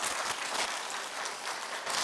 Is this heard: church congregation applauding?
yes